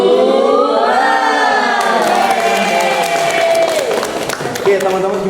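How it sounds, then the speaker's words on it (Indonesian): A group shouts a chanted spirit call with rhythmic claps mixed in, the Indonesian tepuk semangat spirit clap done twice. Voices ride loudly over a ragged burst of clapping that fades out near the end. "Dua kali tepuk semangat."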